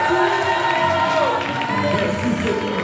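A church congregation shouts and cheers with joy during a worship service, a dense crowd roar of overlapping voices and cries that stays loud and sustained throughout.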